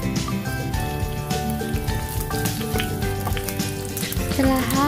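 Chopped garlic sizzles in hot oil for a Chinese-style tomato and egg stir-fry. A steady, even crackle runs throughout beneath continuous tonal background music.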